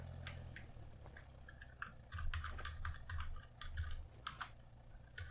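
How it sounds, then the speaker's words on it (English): Steady computer keyboard typing at a desk while building a website, a quick run of close, crisp key clicks over a low background hum, with no talking. "I don't like typing, man"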